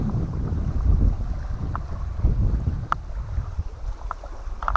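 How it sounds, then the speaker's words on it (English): Low, rumbling wind buffets the microphone outdoors in a deep forest by a lake, with a few faint clicks and knocks scattered through. "A little windy, but it feels nice."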